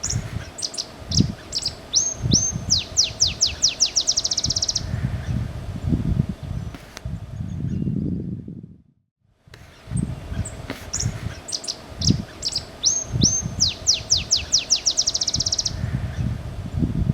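A Botteri's sparrow sings in Madera Canyon: repeated phrases of scattered chips that speed into a rapid accelerating trill, clear and fairly near, with a pause midway and faint background rustle.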